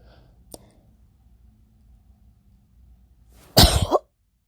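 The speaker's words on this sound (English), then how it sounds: "now I'm coughing up blood" A soft click early on, then quiet, then one harsh, loud cough burst near the end, close to the listener, from a person coughing up blood in cold desert conditions.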